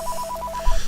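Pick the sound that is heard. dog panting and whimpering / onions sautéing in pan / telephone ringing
telephone ringing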